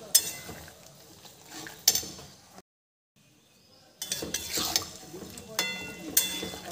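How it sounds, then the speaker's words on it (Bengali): Flour-paneer pieces being stirred in a pan, with spatula clinks and scrapes over a light sizzle, broken by a short pause of near silence partway through. "এবার দিয়ে দেবো সেই ময়দার পনিরগুলো, দিয়ে একটু নেড়ে চেড়ে দিই"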